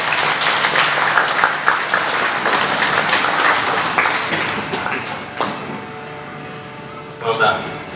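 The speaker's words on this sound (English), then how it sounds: "Big clap for Sam." An audience at a Stage 2 school award assembly applauds with dense, loud clapping that thins and fades after about five seconds, leaving a few scattered claps and a brief burst of voices near the end.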